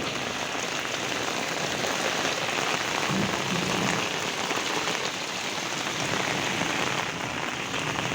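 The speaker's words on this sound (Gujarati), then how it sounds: "તો મિત્રો તમે વરસાદ જોઈ શકો કેવો છે." Heavy downpour on a village street, dense steady rain hissing and pattering on surfaces all around, continuous and close with no talking.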